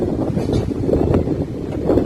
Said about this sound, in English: And it's so windy, it's drizzling, the weather is not that good.